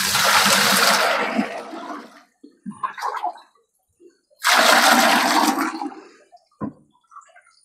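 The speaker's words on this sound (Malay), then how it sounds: "Sebelum tu saya masukkan air dalam ni dulu." Water gushes into a fish pond tank at a small tilapia farm in two strong rushing bursts separated by quiet gaps with faint splashes and trickles.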